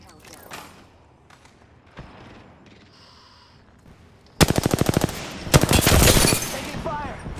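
Automatic gunfire in a shooter video game, several sharp rapid bursts bursting in loud and close after a quieter stretch of faint game sounds and bits of speech.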